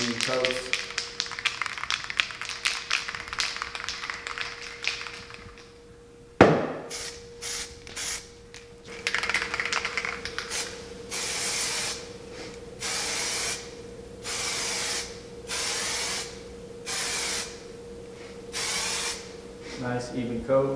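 An aerosol can of primer sprays light misting coats onto a Ford Focus RS widebody kit in a series of short, loud hissing bursts separated by pauses, after a stretch of can rattling and shaking, with someone talking intermittently.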